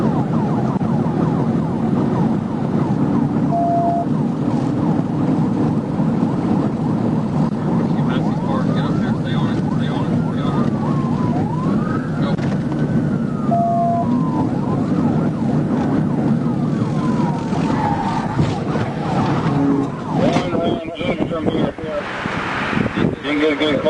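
Police car sirens wail continuously during a pursuit of a driver ignoring troopers' lights, rising and falling sweeps and yelps cutting over loud road and engine rumble for the whole stretch.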